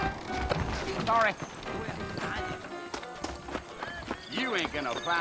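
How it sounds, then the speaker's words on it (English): Horses clip-clop at a trot in the Red Dead Redemption video game, their rhythmic hoofbeats running under a voice that talks over most of the stretch. "I got the horses saddled up and ready out front."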